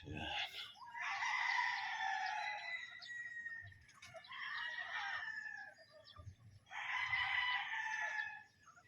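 On a drizzly Philippine game-fowl farm, roosters crow three times in succession, each long drawn-out call loud and near, with a soft patter of rain underneath between calls.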